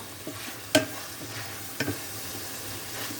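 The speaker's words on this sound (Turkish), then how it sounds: "Biraz karıştıracağım." Food being stirred in a pan with a faint background sizzle, broken by two sharp utensil knocks against the pan.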